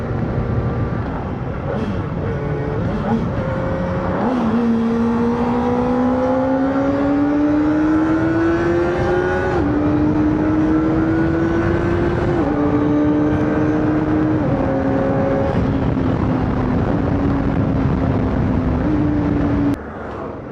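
A Kawasaki ZX-4RR 400cc motorcycle engine heard close while riding, a loud sustained whine that climbs in pitch through the revs and steps down at each quick gear shift, running for the whole stretch.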